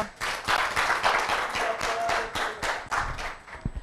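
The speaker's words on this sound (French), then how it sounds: "Et aujourd'hui, nous avons avec nous le groupe Gbadagog que j'aimerais bien qu'on applaudisse" An audience claps for the group Gbadagog on a holiday TV show, with distinct hand claps beating in an irregular rhythm, loud and close, with no talk over them.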